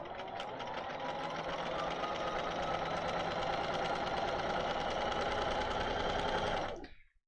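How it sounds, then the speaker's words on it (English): A sewing machine stitches thick fabric in one continuous, fast, rattling run of needle strokes, loud and close, that stops abruptly near the end. "So I sewed up there about 3 or 4 stitches."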